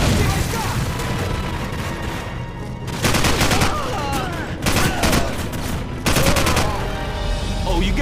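Sustained AK-47 automatic fire in a Call of Duty game, long dense bursts of close, loud gunfire with heavy booming impacts and a few sharp surges, continuing almost without pause.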